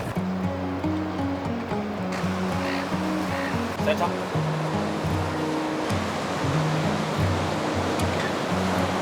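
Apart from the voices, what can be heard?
ocean waves at the beach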